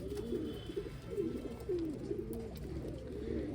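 Pigeons coo in a loft, a series of soft, rolling low coos repeating close by over a faint steady background hum.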